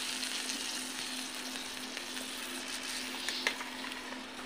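Heated water poured into roasting semolina for suji halwa (rava kesari) sets off a loud, continuous sizzle and bubbling, with brief stirring scrapes over the steady hiss.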